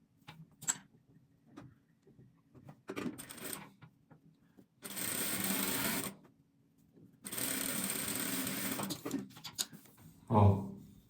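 A sewing machine sews a seam on fabric for an eight-pointed star table centerpiece, running in two clear, steady bursts with light clicks and fabric handling around them.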